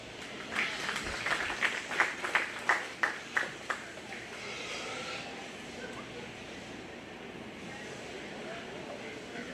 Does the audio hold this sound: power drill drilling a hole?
no